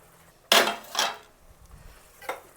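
A spoon scrapes and knocks against a metal pan while Punjabi-style chickpea masala is stirred. One sharp clank comes first, then a second, and a fainter scrape follows after a pause, all close by and with no talk.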